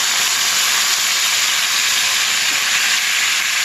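Shredded cabbage dropped into a pan of hot oil already crackling with cumin seeds, giving a continuous loud hiss and sizzle that stays even throughout, close up with no talking.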